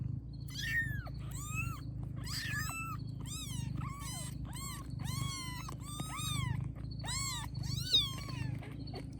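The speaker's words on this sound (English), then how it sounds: "So there's a cat and a kittens." A mother cat and her kittens found in a box, the kittens giving a run of high, thin meows one after another over about nine seconds, close and clear above a low steady purring rumble.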